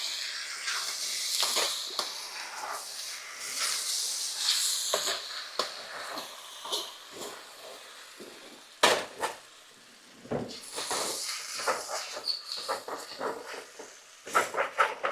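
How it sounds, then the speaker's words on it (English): Metal spatula scraping crusted rice and noodles off the bottom of a wok while chicken fried rice cooks, rasping strokes repeating in uneven bursts over a steady sizzling hiss, close by and with no one speaking. "you want to make sure you scrape the bottom of that wok"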